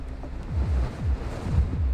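Strong storm wind gusts through the streets of central London, heavy rumbling buffeting against the microphone in repeated surges, loud and continuous with no voices.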